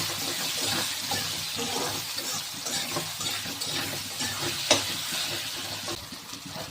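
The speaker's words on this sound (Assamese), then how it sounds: "অলপ সময় লৰাই ল'ম।" Rohu fish pieces sizzle and fry in a pan with salt and turmeric while being stirred, a steady close crackle with faint scraping and one sharp clink partway through.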